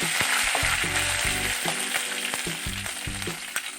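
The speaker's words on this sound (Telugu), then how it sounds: "ఇప్పుడు కరివేపాకు, ఎండుమిర్చి యాడ్ చేద్దాం. ఇలా కలుపుతూ ఉండాలండి." Curry leaves and dried red chillies fry and crackle in hot oil for a gongura chutney tempering, with steady close sizzling broken by repeated clattering spoon strokes against the pan.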